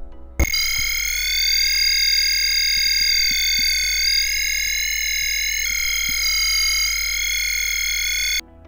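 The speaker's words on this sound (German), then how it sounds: "Beim kontinuierlichen Modus wird ein zusammenhängender Ton erzeugt." A Whadda Junior Theremin in continuous mode gives one unbroken electronic tone, rich in harmonics, that holds steady and glides slightly in pitch with a small downward step midway, loud and alone until it cuts off abruptly.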